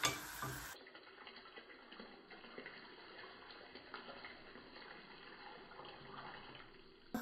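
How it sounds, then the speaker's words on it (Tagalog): Broth poured into a pot of Filipino pork blood stew (dinuguan), a steady soft liquid pour and simmering bubble running continuously at close range, faint and with no talking. "lalagyan na natin ng yung broth"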